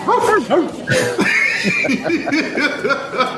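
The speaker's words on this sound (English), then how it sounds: "sit, Ubu, sit. Good dog" A dog yips and whimpers excitedly in short, bouncy bursts close by, mixed with human chuckling, lively and loud throughout.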